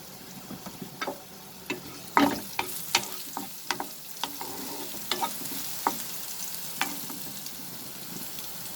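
Ginger, garlic, green chillies and onion sauté in two tablespoons of hot oil over a medium flame for chilli potato, with a constant soft sizzle broken by frequent close clicks and scrapes of a spatula against the pan.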